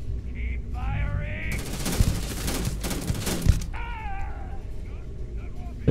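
Gunfire in Starfield rattles in a loud, fast burst of about two seconds between spoken lines, with short trailing shots after.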